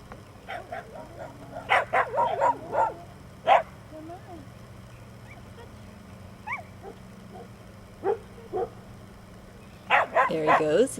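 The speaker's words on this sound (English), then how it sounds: "it's actually an alley of barking dogs" Several dogs bark and yip from both sides of a neighborhood street, in scattered bursts at varying distances, some near and loud, others fainter, with a few whimpers between them.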